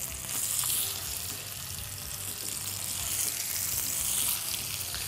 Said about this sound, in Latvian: karsta eļļa, liekam pa vienam šim te iekšā